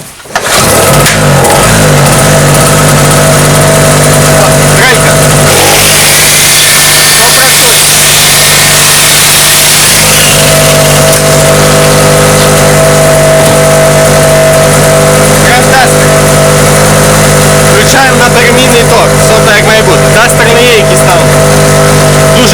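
A leaking two-stroke petrol generator cranks and fires up with a brief sputter, then runs loud and close with a steady buzzing drone and a hissing surge partway through, its pitch wavering slightly; voices are faintly audible over it.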